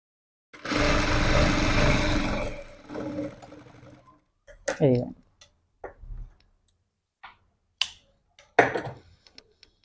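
A sewing machine runs in a short, loud burst while stitching over an existing seam, then stops. Scattered clicks and a voice follow in short bursts.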